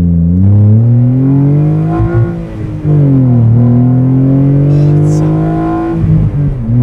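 Renault Clio V6 mid-engine hot hatch launching hard on launch control, its engine note climbing steadily through a long, loud rev with a brief dip around a gear change, heard close up.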